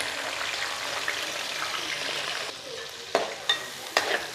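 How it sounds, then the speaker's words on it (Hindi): Chopped onions frying in hot ghee in a kadai give a steady, close sizzle throughout, with a few sharper clinks of a stirring spoon against the pan near the end. "अब आप इसके अंदर शामिल कर दें प्याज"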